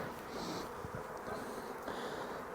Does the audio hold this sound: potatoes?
no